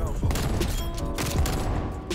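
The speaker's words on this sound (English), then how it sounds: "Let's use this hand cannon, see if we can pick up some extra kills." Hand cannon gunfire in Call of Duty: Cold War, two heavy booming shots with clear onsets about a second apart amid constant game noise.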